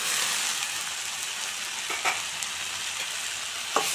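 Beans and chana dal frying in a pan, a steady close sizzle with a few soft clinks and bumps of stirring, no voices.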